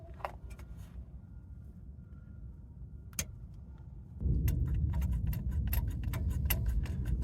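Hand vacuum pump working on the rear wheel cylinder bleed nipple of a 2007 Toyota Yaris during brake bleeding: sharp clicks and ticks, then a steadier, louder pumping rattle from about four seconds, close by.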